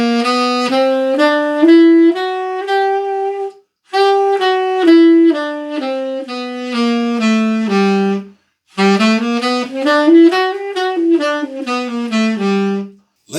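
A melodic instrument plays a bebop scale with an added major third as a run of clear, evenly spaced notes in three phrases, separated by short pauses, with no talk over it.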